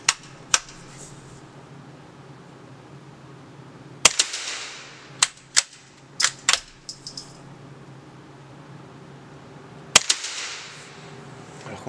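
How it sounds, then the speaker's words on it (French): A suppressed Anschutz 1416 .22 LR rifle fires into soft, impact-damping material, giving several sharp, short cracks at irregular intervals, each followed by a brief mechanical rattle of the action. "on va tirer dans un matériau souple qui amortit le bruit de l'impact pour n'avoir vraiment que le bruit de la balle"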